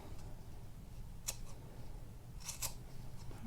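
Scissors trimming a yarn pom pom for an Easter chick craft: a few quick, quiet snips, one alone and then a close pair, over a soft background hiss.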